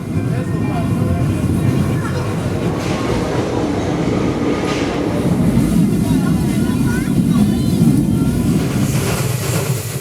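A narrow-gauge railway train on the Třemešná–Osoblaha line rumbles loudly and continuously up close, a heavy rolling clatter with a steady roar and no pauses.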